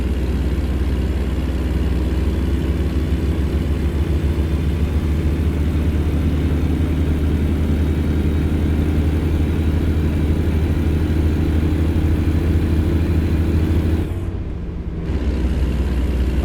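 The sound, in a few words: truck engine revving in video game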